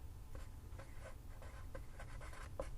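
A pen or pencil writes out a math answer, producing faint, soft scratching strokes in short irregular bursts against a quiet background hum.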